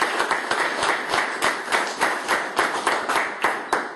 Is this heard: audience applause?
yes